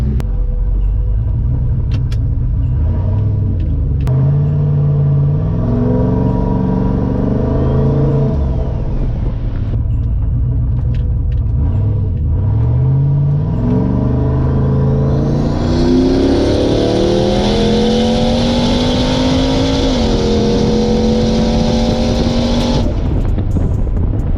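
Turbocharged LS-swapped Nissan 240SX with a 4L80E automatic making a wide-open-throttle pull, loud engine rising through the revs with a gear change and climbing turbo whine, steady and close throughout.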